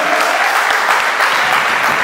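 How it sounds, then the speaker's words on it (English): Dense crowd clapping at a steady loud level, a continuous wash of many hands heard up close for a couple of seconds. "Give a round of applause"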